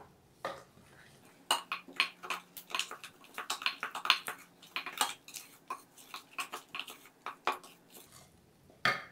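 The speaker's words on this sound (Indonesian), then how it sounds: "Diaduk lagi." Spoon stirring vanilla cookie dough in a bowl after two egg yolks are added, giving a steady run of close clinks and scrapes against the bowl with no talking.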